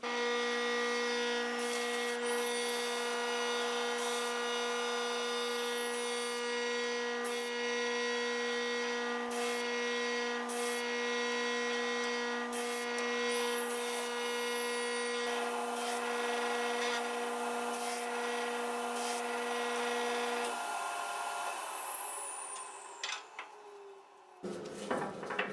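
A spinning disc sander with a 40-grit disc cleans the edges of segmented wood bowl rings, a steady loud motor whine with tonal hum and brief grinding contacts, then winding down near the end.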